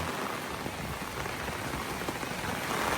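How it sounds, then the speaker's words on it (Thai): Steady rain pattering on surfaces outdoors in a rural Thai-Lao setting, a dense continuous wash of drops with no voices. "นี่ฝนตกแห้ง"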